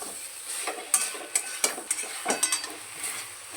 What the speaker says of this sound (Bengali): কয়েকটা আলু এইভাবে খুন্তি করে চেপে চেপে দিয়ে শাকটা আরও মাখো মাখো হয়ে যাবে।